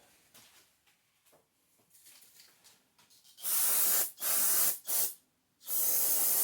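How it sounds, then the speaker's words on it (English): Brake cleaner sprays onto an oily generator frame in three loud, close hissing bursts, two short and one longer, after a few seconds of quiet handling sounds. "A little brake clean to get the oil off the frame here."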